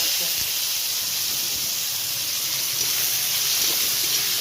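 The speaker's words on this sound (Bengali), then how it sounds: "পেঁয়াজটা আমি দিয়ে দেবো তেলের মধ্যে।" Sliced onions frying in hot oil, a steady bright sizzling hiss that fills the whole stretch, close and even with a few faint clinks beneath.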